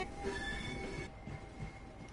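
Electric multiple unit train in Network SouthEast livery in Train Sim World 4, its steady rolling rumble with a high whine, the sound dropping off abruptly partway through and continuing more thinly.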